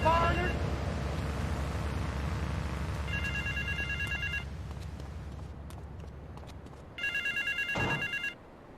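Payphone ringing in the video game Grand Theft Auto 3: electronic bell-like rings come in separate bursts, one at the start, one near the middle and a louder one near the end, over a steady low engine-like rumble.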